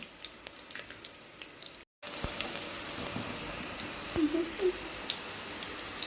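Onions sautéing in a pan for beetroot biryani, a steady soft sizzle with faint stirring clicks, briefly cut to silence near the start before the sizzle resumes evenly.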